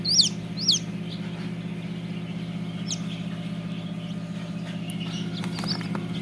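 Tiger chickens at a poultry shop, a few sharp bird calls and clucks near the start and scattered later over a steady low droning hum, moderately loud throughout.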